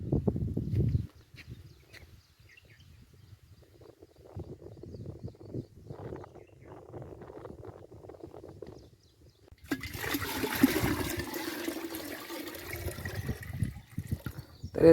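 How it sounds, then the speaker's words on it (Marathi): Water runs and gushes steadily into a crop sprayer pump tank at a sugarcane field, loud and continuous in the later half, with quieter splashing and handling noises before it; no one speaks. "तर पंपाचं पाणी घेतलं आहे आपण पंपासाठी आपण आता औषध कालवतोय"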